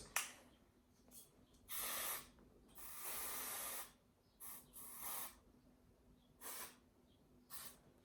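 Several hissing bursts of an aerosol body spray, short and longer sprays separated by quiet pauses, close and crisp.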